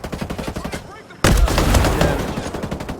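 Rapid bursts of gunfire in the Ghost Recon video game, a steady stream of repeated shots that pauses briefly and then resumes louder and denser, as in a sustained firefight.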